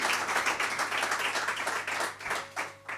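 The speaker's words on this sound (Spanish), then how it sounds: "un fuerte aplauso para él" An audience claps and applauds for an accordion and bouzouki player at an Asturian folk concert, a dense, steady wash of many hands sustained for about three seconds before thinning toward the end.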